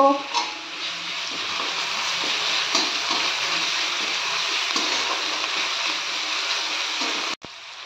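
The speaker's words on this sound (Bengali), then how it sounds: "পেঁয়াজ আর রসুনটা ভাজা হয়ে গেছে" A paste of one large ground onion and half a spoon of garlic paste sizzles and fries in a pan, a steady crackling hiss with faint stirring, ending in an abrupt cut near the end.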